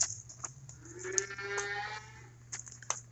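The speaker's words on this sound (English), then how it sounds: "Calves are starting to make some noise now, though." Calves moo faintly on a foggy farm, a few drawn-out low calls rising and falling at a distance over a steady low hum, with occasional clicks and knocks.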